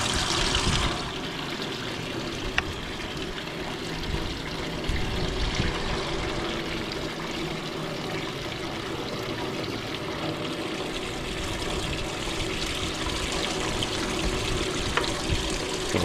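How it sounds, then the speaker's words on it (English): Maple sap pours steadily from a bucket while an ice chunk is held back, a close, continuous splashing stream of liquid that carries on without a break. "You can pour it, and I'll hold the ice chunk."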